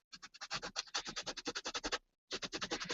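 A baby wipe scrubs paint into the grooves of a stencil on an art journal page: quick, rhythmic rubbing strokes close to the mic, with a brief pause before the scrubbing resumes.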